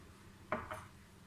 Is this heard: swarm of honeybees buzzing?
no